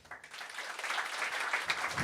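Audience at a French comedy club show breaking into applause, a dense wash of many hands clapping at moderate distance, steady for a couple of seconds without talk.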